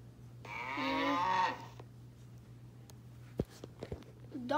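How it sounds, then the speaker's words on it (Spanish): Cow mooing once, a drawn-out close moo lasting about a second, followed by quiet ambience with a steady low hum and a few soft clicks and thumps. "Cow. Vaca."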